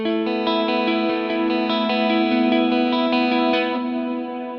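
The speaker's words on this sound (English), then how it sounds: "This sound is got that real like long wash reverb to it that I like a lot." Clean electric guitar chords from an Axe-FX rig ring out with a long, washing reverb tail that sustains and blends notes together, played alone.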